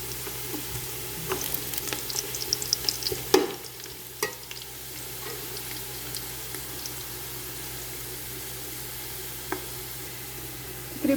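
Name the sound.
onions frying until golden for pulao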